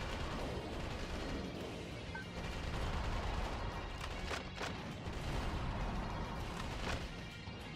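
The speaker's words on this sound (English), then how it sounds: "I'm trying my best to block the shots." Continuous gunfire and explosive booms in the mech action video game Metal Wolf Chaos, a dense sustained barrage with sharper bursts standing out midway.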